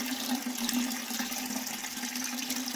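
A gallon of water pours into a bucket hanging from a model K-truss bridge during a load test, a steady rushing, splashing flow lasting the whole short moment.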